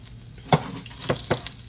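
Swai fish fillets, still partly frozen, pan-fry in a hot pan with a steady close sizzle, broken by a few sharp crackling spatters and stirring sounds.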